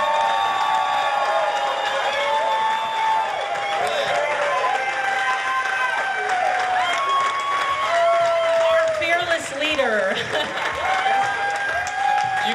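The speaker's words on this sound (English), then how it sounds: "Just a big round of applause and a huge thank you to Ben, the locksmith." Applause and cheering from the audience at a rock opera show, a dense wash of clapping with whoops over sustained tonal music or feedback, loud and continuous throughout.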